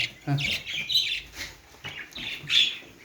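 Several short, bright budgerigar chirps and squawks come in bursts, close by, with a soft voice murmuring underneath.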